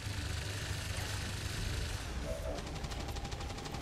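Area suppression fire in XCOM 2 comes as a rapid automatic burst of gunshots near the end, above a quiet, steady game background.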